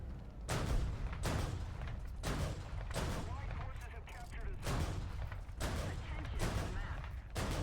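The cannon of a Scimitar light tank fires in the War Thunder game, a series of sharp, booming shots in a fairly regular rhythm, loud and close, with someone talking over them.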